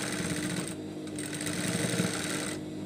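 A sewing machine stitches a hijab face mask, a steady fast whirring rattle that runs close and continuous for a few seconds with brief changes in pace.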